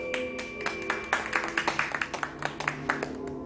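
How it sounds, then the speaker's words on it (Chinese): Hands clap in a quick run of sharp, irregular claps in celebration, close and fairly loud over a steady tonal background hum, with no talking. "那我就提前为林队长的壮举鼓掌庆功"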